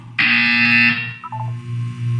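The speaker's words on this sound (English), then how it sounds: "When you hear the buzzer, look down at the floor." A harsh electronic buzzer from Portal 2 blares for about a second, then a few short electronic blips follow, with a low hum continuing underneath.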